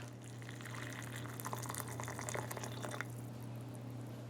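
Water is poured into a Spanish field ration meal pouch, a soft, faint trickling splash lasting about three seconds over a low steady hum, then fading out.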